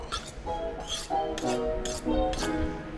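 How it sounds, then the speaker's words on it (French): A knife trims excess pastry dough from a metal tart pan, making a series of short scraping clinks and metallic taps that repeat irregularly and sound close. "je passe un petit coup de couteau pour enlever l'excédent"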